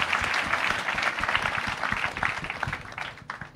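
Applause at a religious wedding ceremony: a dense, steady wash of many hands clapping together, loud and sustained throughout with no pauses.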